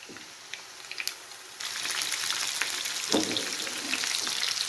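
Chicken pakora frying in oil over a low flame until brown, a steady dense sizzle that grows louder partway through, with a brief stir or clatter near the middle and no talk.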